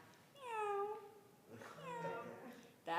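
A person's voice imitates a cat's meow during the Chad Gadya Passover song, two drawn-out, moderately loud meows in a row with a quiet room behind them.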